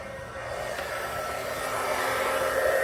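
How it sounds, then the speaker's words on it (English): An embossing heat tool blows hot air while making a birthday card, a steady whooshing hum that starts up and grows slightly louder and closer over a few seconds, with no talking. "Next, we're going to bring in our heating tool."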